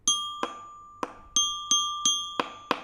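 Mallet strikes on a percussion bar at its node give a deadened, less resonant ring, with a slight metallic rattle from the mounting screw; eight separate hits in uneven rhythm, close and clear, with no talking.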